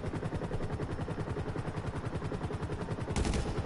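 Rapid automatic gunfire in GTA 5 Online, a continuous rhythmic stream of shots, fairly faint and distant, with a slightly louder burst near the end.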